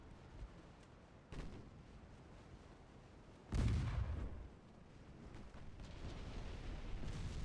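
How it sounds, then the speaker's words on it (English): Ship guns firing in Ultimate Admiral Dreadnoughts, a few distant, muffled naval gun blasts with one heavier booming report midway, each followed by a low rumble over quiet background noise. "Oh, there goes his guns."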